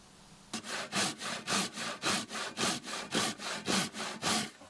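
An old Japanese ryoba pull saw, freshly resharpened, cuts through wood in about eleven steady, evenly spaced rasping strokes, close and clear with no talking.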